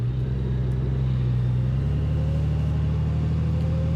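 A Honda Goldwing motorcycle rides out toward a parking lot, its engine holding a steady, loud low drone that shifts pitch partway through as it changes speed, with no voices.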